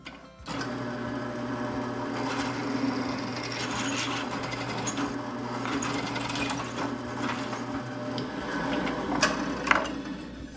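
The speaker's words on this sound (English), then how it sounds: "I get the 2 holes drilled in it." Power drill boring holes into a steel camera mount bracket with a 5/16 bit, a steady close mechanical whir with grinding chatter and brief louder scrapes, starting abruptly and running continuously.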